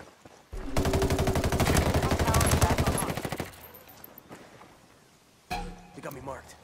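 Automatic gunfire in Ghost Recon Wildlands (Ghost War): a loud, close burst of rapid machine-gun shots lasting about three seconds, followed by quieter scattered sounds and a later sharp impact.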